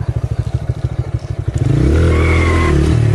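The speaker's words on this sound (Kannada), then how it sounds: "ನೀವು ನೋಡ್ಬೋದು ವೀಲ್ ಸ್ಪಿನ್ ಆಗೋ ಅಂಥದ್ದು ಸೌಂಡ್ ಕೇಳಿಸುತ್ತೆ" Bajaj CNG motorcycle with its wheel spinning, first a rapid rhythmic chugging engine pulse, then rising into a louder steady whirring rev, close by.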